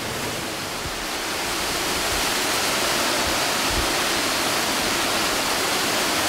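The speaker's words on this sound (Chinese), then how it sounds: "深夜的瀑布" A mountain waterfall at night roars in a dense, steady rush of falling water, loud and unbroken throughout with a few faint low knocks underneath.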